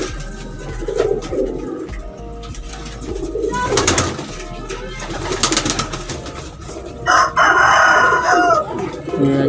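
Pigeons coo on a rooftop in Sialkot among other birds, with a rooster crowing and hens clucking around them; the calls are loud, overlapping and busy, with a louder burst near the end.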